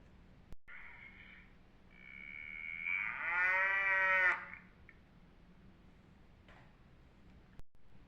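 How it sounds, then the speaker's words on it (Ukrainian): A cow lows in a long, drawn-out call that swells and fades, preceded by softer tonal calls, with quiet barnyard ambience around it. "це корова."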